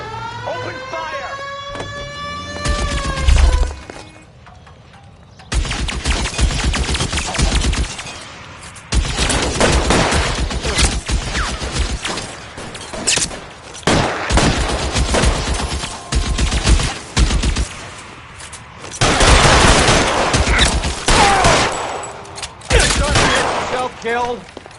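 Shootout gunfire in L.A. Noire, loud bursts of rapid shots and machine-gun fire in long dense stretches broken by short pauses, with a car engine, a siren and voices shouting in between.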